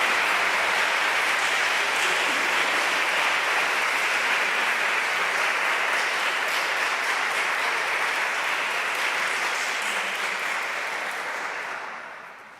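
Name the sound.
audience applause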